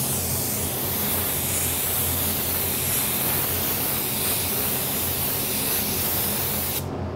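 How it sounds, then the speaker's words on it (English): Steady, loud hiss of a spray gun spraying a coat of Createx AutoBorne sealer continuously for several seconds, cutting off abruptly at the end. "we are ready to spray our first coat of our sealer."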